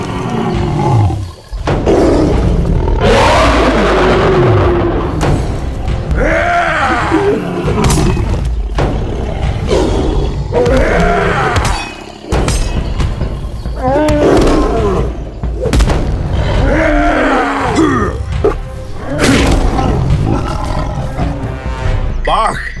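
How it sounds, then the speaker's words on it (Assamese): A cartoon tiger roars loudly and repeatedly in a Hulk-versus-tiger fight scene, the growling bursts close and forceful, mixed with thumps and a voice speaking between them. "ইয়াৰ আশে পাশে বাঘ নিশ্চয় থাকিবই।"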